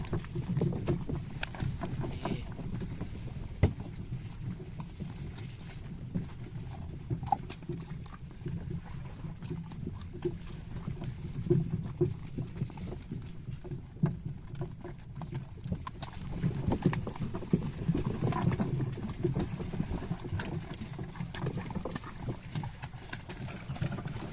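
Horses in rural Ukraine haul a load of wooden boards. Hooves clip-clop steadily and fairly faintly under a constant rumble of wind and cart noise, with no one speaking.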